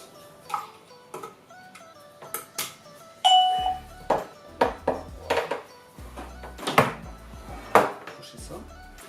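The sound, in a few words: doorbell chime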